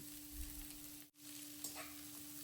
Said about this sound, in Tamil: இங்க பூண்டும் நல்லா பொரிஞ்சாச்சு. கட் பண்ணி வச்சிருக்கிற காய்கறியும் உள்ள சேர்த்து ஒரு 2 மிக்ஸ் பண்ணி விடுறேன்.